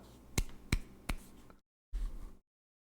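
Claps arrive over an online call, three sharp, sparse ones about a third of a second apart, faint and thin, before the sound drops out. A brief burst follows, then silence.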